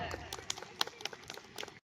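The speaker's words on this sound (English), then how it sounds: "Give a huge round of applause for sir." Scattered clapping from a modest crowd, quick uneven hand claps ringing out for under two seconds before cutting off abruptly.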